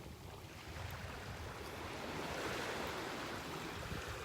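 Broad, steady wash of surf and moving tidal water at a beach near a river mouth in North Naples, Florida, soft and continuous with light wind noise.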